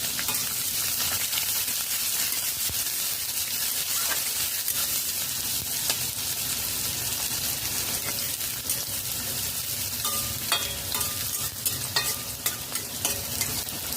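Cumin, chopped garlic, ginger and onion sauté in a pan over a low-medium flame, giving a steady, continuous sizzle with occasional scraping stirs, close and even throughout, with no talking.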